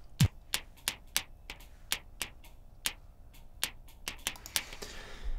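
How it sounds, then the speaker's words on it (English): Raw output of a piezo kick drum trigger, foam pressed onto the disc, giving a string of sharp dry clicks in an irregular rhythm, about a dozen hits over a few seconds with no tone or body behind them. "That's my kick drum, and it's the raw output of a kick drum trigger."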